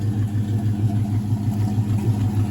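A lifted Box Chevy's engine idles close up with a steady low rumbling throb, its pulses even and continuous across the whole stretch, with no talking.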